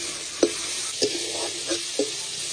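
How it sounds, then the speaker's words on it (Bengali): Onions sizzle steadily in a pan while a spatula scrapes and stirs four times in a slow, even rhythm. "এবার ভালো করে ভেজে নেবো পেঁয়াজটা"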